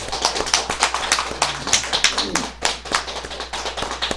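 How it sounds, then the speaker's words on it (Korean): Dense, steady applause from a forum audience in a hall, many hands clapping close and continuous for several seconds without a break. "다 같이 큰 박수로 우리 선생님"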